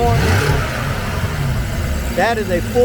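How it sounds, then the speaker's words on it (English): A fully forged BMW X6 M car engine, intakes not hooked up, idles with a steady low rumble, close by, while a voice talks briefly over it near the end. "Look how clean it's idling. Now that's what you call a smooth engine."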